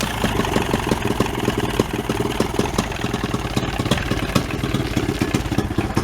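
A 25 hp Johnson outboard motor running after a battery cable repair, already warmed up: a close, loud, even idle with rapid rhythmic clatter that holds steady throughout, no voices.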